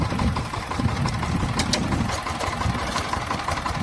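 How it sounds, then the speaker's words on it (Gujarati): A VST Shakti 130 DI 13 hp mini tractor's diesel engine, hand-crank started, idles close by with a steady low, knocking rumble that continues evenly throughout. "અટાણો ચાલુ કર્યો વીટીએસ શક્તિ એકસો એકસો ત્રીસ ડીઆઈ હેન્ડલથી ચાલુ કરી લેવાનું"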